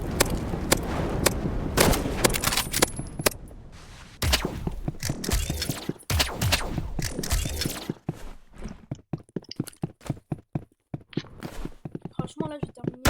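Sniper gunfire in the mobile shooter game Rivals, played on a tablet: sharp, isolated shots crack out among clicks and game noise, with a person talking over much of it.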